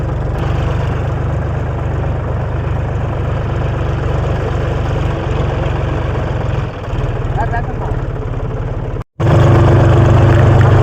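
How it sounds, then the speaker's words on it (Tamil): A tractor engine drones steadily up close while ploughing a field, a loud low chugging hum that cuts out briefly near the end before resuming. "இப்போ டிராக்டர் உழுந்துட்டு இருக்கு"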